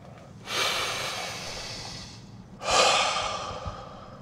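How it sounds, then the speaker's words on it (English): Two long, deep breaths, each a close, airy inhale-exhale rush lasting about two seconds, heard alone without talk. "let's just take a deep breath"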